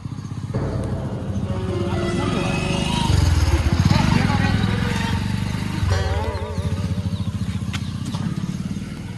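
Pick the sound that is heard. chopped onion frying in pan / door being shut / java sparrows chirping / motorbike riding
motorbike riding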